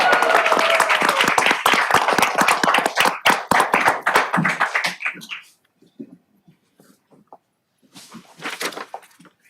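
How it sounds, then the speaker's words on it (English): A room at a Redondo Beach city council meeting bursts into loud, dense applause that thins into scattered claps and fades to near silence, followed by a few faint taps and rustles. "How about a round of applause for Marlo?"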